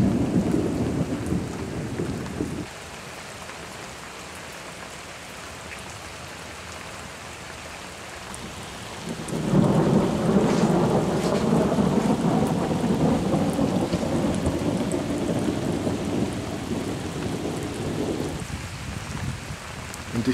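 Thunderstorm with heavy rain over an island lake in Hungary: a loud steady roar of rain, then a long rolling rumble of thunder that swells midway and lingers, with no voices.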